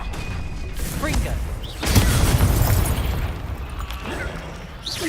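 A Confringo fire spell blasts in Hogwarts Legacy, a broad booming burst that swells up mid-clip and rolls on amid game effects and chatter, with a lighter whoosh earlier and later.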